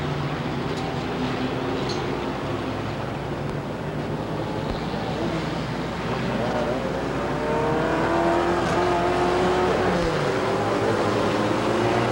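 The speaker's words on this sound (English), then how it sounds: "Whites are out on top of the back row, Pontiac pace car. They come in, the pace car ducks to the infield." Race cars circle Rockford Speedway behind a Pontiac pace car in 1996, their engines a continuous loud drone with rising and falling tones that swells slightly toward the end, with no voices.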